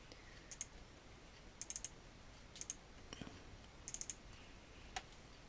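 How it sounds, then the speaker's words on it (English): Computer mouse clicking while files are dragged and dropped in the FileZilla FTP client, faint close clicks in small clusters spread over a few seconds against quiet room hiss. "All I done there was click on this, drag it and drop it into there."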